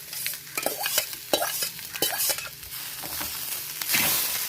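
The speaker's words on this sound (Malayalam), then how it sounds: "കുറച്ച് ചുവക്കുന്ന രീതിയിലാകുമ്പോൾ നമുക്ക് ഈ കൂർക്കയും കൂടി ഇതിലേക്ക് ഇട്ട് നല്ലതുപോലെ മിക്സ് ചെയ്യാം." Koorkka, or Chinese potato, sizzles in a frying pan while being stirred, with steady close frying noise and repeated scraping stirs throughout, no voices.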